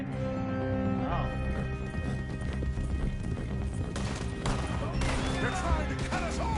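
A Hungarian Flaxen Chestnut horse in the Red Dead Redemption 2 video game clops along at a steady gait amid game ambience, with scattered gunfire and bangs breaking through in a chase.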